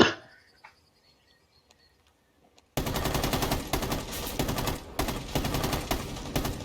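Rapid automatic gunfire in a tactical shooter video game bursts in loudly after near silence, sustained fire with brief pauses between sprays.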